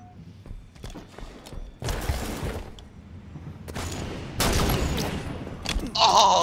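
Rapid bursts of gunfire from the video game Halo 5 Guardians during a Free For All match, sharp clustered shots arriving in several bursts of varying loudness.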